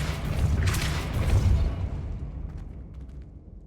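A Depulso spell cast in Hogwarts Legacy on PC lands as a loud, booming blast that swells and bursts near the start, then slowly fades into a lingering rumble.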